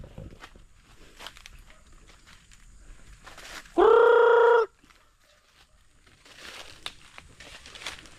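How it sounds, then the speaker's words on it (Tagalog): Chickens trailing a person along a fenced edge of forest give one loud, sustained call near the middle, with soft rustling and footstep-like scuffs before and after. "sinusundan ako ng mga manok oh"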